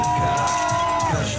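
Audience at a car tuning party with a Miss Carat swimsuit contest cheering and clapping in a brief loud burst, with a tonal whistle-like note running through the noise.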